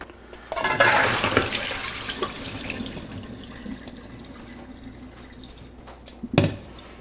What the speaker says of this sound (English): Just rinse it off with some water.